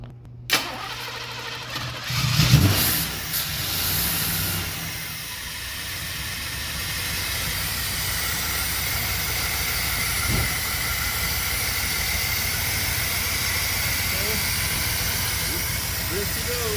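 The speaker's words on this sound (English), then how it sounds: "The engine actually runs really good and sounds good." KITT replica car's engine turns over and settles into a steady running idle, a loud continuous hiss and rumble close by, with a brief thump early on.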